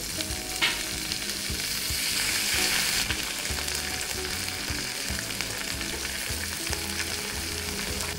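Chicken and onions fry in melted butter on a sizzling tray for restaurant-style chicken sizzler. A dense, crackling sizzle stays steady and close throughout, swelling briefly near the start.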